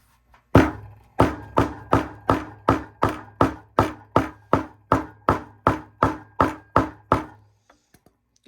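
A hammer pounds open the zipper seam on a sewn sleeve, striking about fourteen times in a steady, evenly spaced rhythm of close, sharp knocks with a dull thud, then stopping.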